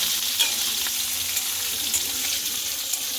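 Chicken pieces for chilli chicken fry in hot oil, a dense, even sizzle up close with occasional light clicks of a spatula and no voices.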